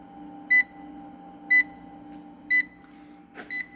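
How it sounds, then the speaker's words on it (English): An EG4 6k inverter fault alarm beeps three times at an even one-second pace, short high-pitched tones over a faint steady electrical hum. "Now, what's that alarm?"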